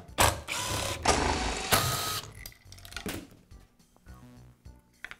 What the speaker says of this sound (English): I'll begin by removing the pulley cap from the rear wheel.